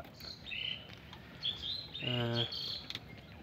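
King quail kept as grown pet birds give a few short, high chirps and calls, soft and close, with a quiet pause between bursts and a low harmonic call near the middle.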